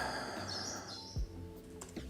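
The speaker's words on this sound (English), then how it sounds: "Can you guys hear the bird? It's really, really loud in my ears." A bird chirps loudly outside in a rapid high twittering burst that fades after about a second, followed by faint clicks of computer keyboard and mouse use nearby, with no talking.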